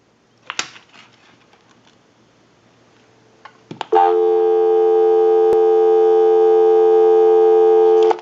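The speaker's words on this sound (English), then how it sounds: "We'll call my number and it'll be busy." A few clicks and clunks of a payphone handset, then a steady, loud telephone busy tone sounding continuously.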